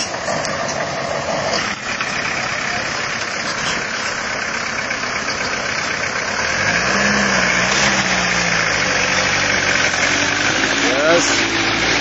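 A motorbike engine runs on a rough, potholed road, giving a loud, continuous rumbling drone up close, with the engine note rising and wavering in the latter half.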